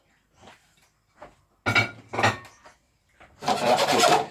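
A pan set down on a hob to cook an omelette: a few soft scrapes and light clinks, then heavier metallic rubbing and a final broad scrape, close and fairly loud, with no talk.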